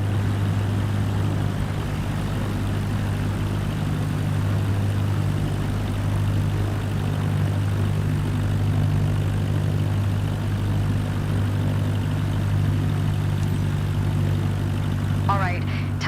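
An aircraft engine idles on the ground in Microsoft Flight Simulator 2024, a steady low propeller drone that holds evenly throughout with no break or change in pitch.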